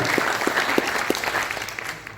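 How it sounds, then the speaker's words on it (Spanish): At a banking union meeting on collective bargaining, an audience applauds a university academic, a short burst of crowd clapping with a few sharp near claps that fades toward the end. "un aplauso para él"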